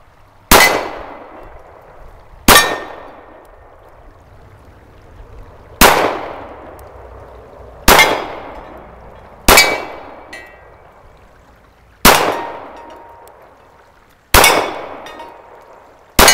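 An M&P45 2.0 pistol in .45 fires at steel scrap targets set in a V formation, giving eight loud, sharp shots spaced a couple of seconds apart, each with a ringing clang that decays. No one talks.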